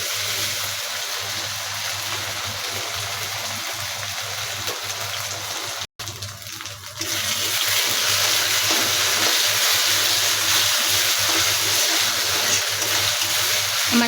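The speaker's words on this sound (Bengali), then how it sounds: "আদা আর রসুনটাকে হালকা ভেজে নিব তেলের সাথে" Ginger and garlic fry in oil for a chicken kala bhuna, a continuous close hiss that briefly dips, then returns louder and fuller, with no voices.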